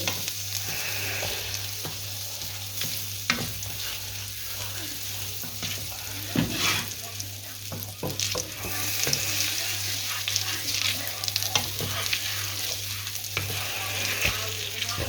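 Butter sizzles and bubbles vigorously in a hot pan while browning toward a nutty stage, a close, continuous crackling fry with scattered pops and clicks of a utensil, with no voices.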